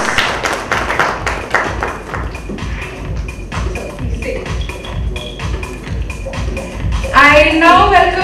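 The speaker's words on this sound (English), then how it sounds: "Let's have a big round of applause." Audience applause at a trade conclave lamp-lighting ceremony, a steady patter of many hands clapping close and fairly loud, with brief bursts of speech and a louder rise near the end.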